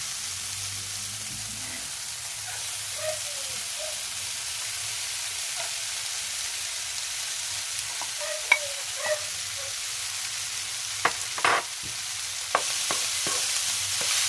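Ground pork sautéing in a pan for a Filipino giniling with snow peas, a soft steady sizzle close by and fairly quiet, broken by a handful of light scraping and tapping knocks as the meat is broken up, no voices.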